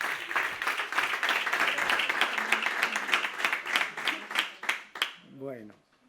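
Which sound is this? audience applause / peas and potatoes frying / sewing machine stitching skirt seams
audience applause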